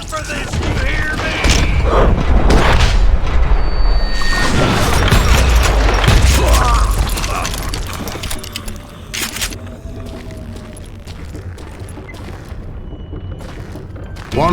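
A loud, sustained explosion in the Western shooter Call of Juarez: Gunslinger, a deep booming rumble with crashing debris lasting several seconds before fading into lighter clatter and ambience.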